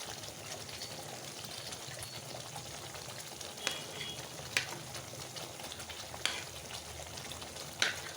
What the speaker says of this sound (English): fry it a little more browner than this